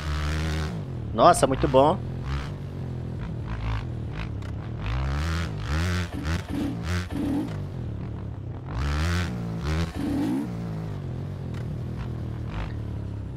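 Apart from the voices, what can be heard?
Honda 125 motorcycle accelerating in video game MX Bikes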